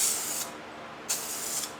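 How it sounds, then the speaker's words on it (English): Rust-Oleum Custom 5 in 1 spray paint can on its vertical spray nozzle setting, giving two close, steady hissing bursts, the first about half a second, the second longer, separated by a short silence. "Setting 4 is the vertical spray"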